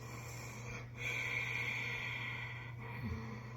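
Steady nasal breathing through a constricted throat, a soft continuous rushing hiss with a low hum underneath, no talking.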